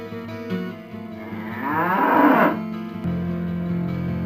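In the PlayStation game Diablo, a cow gives a single drawn-out moo that rises loud in the middle and then fades. Steady in-game music plays beneath it throughout.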